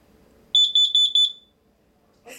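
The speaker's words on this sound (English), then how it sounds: "Victor likes to test the carbon monoxide detector" Carbon monoxide detector being tested, giving a burst of six rapid shrill electronic beeps, loud and close in a quiet room, followed by a short rustle.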